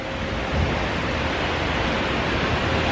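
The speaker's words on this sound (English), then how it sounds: "It's a waterfall." A waterfall in Greenville, South Carolina rushes with a steady, dense hiss of falling water, constant and fairly loud, with no voices over it.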